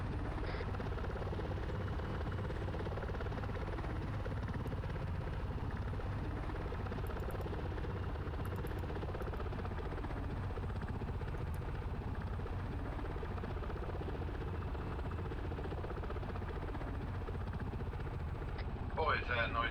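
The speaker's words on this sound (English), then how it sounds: "Boy, is that a noisy helicopter even underwater." A loud helicopter heard from underwater during a training dive, its rotor and engine making a constant heavy, muffled droning roar that fills the scene, with radio-style voices talking over it.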